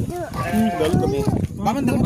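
A goat at a festival gives a short wavering bleat close by, with people talking over and around it.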